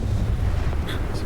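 A deep, rumbling blast from a flashbang grenade in the video game Starfield, one loud boomy burst filling the short moment with a faint higher crackle near the end.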